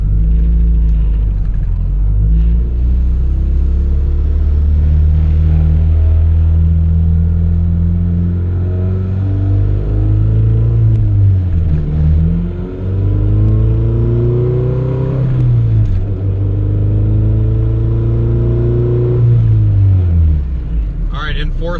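A boosted Honda Civic with Hondata boost control is floored in fourth gear, its engine roaring loud and close for the full pull, pitch sweeping upward through repeated climbs with a brief dip midway; a voice seems to shout over it near the end.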